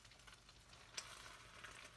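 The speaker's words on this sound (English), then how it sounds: "reheat your burrito by deep frying it" A burrito deep-frying in butter and beer gives a steady, bubbling sizzle with light stirring scrapes and one brief sharp clink near the middle.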